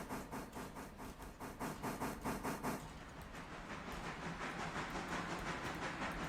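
A locomotive in the train simulator Railroader pulls away, rhythmic chuffing and hissing steam pulsing steadily for about three seconds, then blending into a continuous rolling rumble of the moving train, fairly close and unaccompanied by voices.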